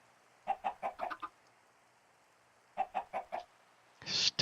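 A chicken in Minecraft (Sky Factory 3) clucks in two quick bursts of about five sharp, close clucks each, separated by a short pause, followed by a brief noisy rustle at the end.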